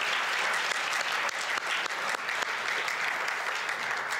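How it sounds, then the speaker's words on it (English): Steady applause from an audience honoring student athletes at a school board meeting, dense continuous clapping at even loudness throughout with no voices over it. "Another round of applause to our student athletes."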